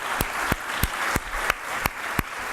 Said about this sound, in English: Just give it a round of applause for all three of them.